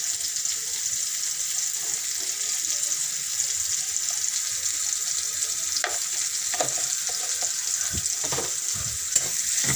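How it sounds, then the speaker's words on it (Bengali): Chopped onions fry in a pan for a rohu fish and turnip dish, a steady bright sizzle with occasional clinks and scrapes of a spoon stirring, no talking. "দুটো পেঁয়াজ কুচি দিয়ে দিলাম"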